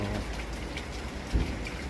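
Heavy rain in Kuwait falls in a dense, even hiss, with one brief low thump partway through; no one speaks.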